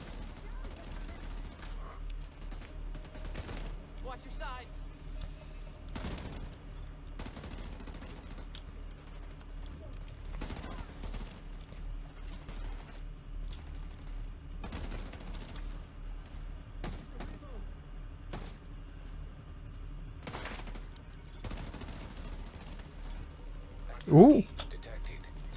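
Deployed turret firing in the video game The Division 2, repeated bursts of gunfire spaced every few seconds through a fight, fairly quiet and mixed under game sounds and players talking.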